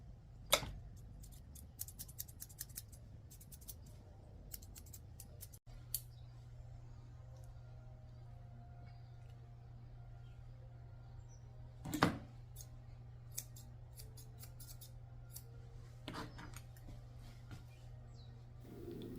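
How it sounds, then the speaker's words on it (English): Curved scissors trim the fur around a Pomeranian mix's eyes during grooming, giving sparse crisp snips, a quick cluster early on and isolated cuts later, over a quiet low hum. "I'm using my curved scissors to trim up around her eyes."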